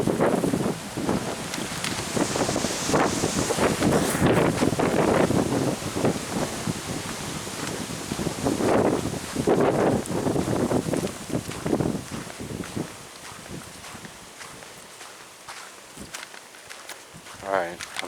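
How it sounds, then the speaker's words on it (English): Gusty wind blows outdoors during a walk, rising and falling in loud rumbling swells against the microphone, with footsteps and rustling underneath before easing off toward the end. "it sounds like it's getting windy right now"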